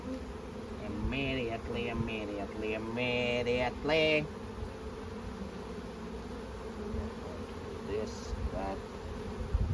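Honeybees drone steadily around an open hive during a hive split, a continuous close insect buzz with voices talking briefly over it near the start.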